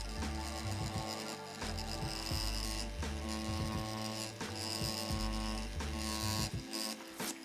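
Tattoo machine fitted with a magnum needle, shading with the machine tilted on its side: a steady buzzing mechanical hum with rhythmic pulsing and brief pauses as the needle works, no talking.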